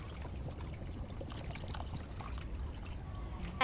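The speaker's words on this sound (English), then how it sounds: "Pour in water to cover the fish." Water poured into a pot over fish, a steady low splashing trickle, close and fairly quiet with no talking.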